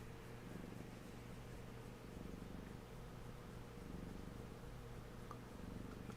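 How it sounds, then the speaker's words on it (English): A cat purring steadily while being petted, a low continuous rumbling drone that stays faint but even throughout, with no voices over it. "I don't know if you can hear her purr."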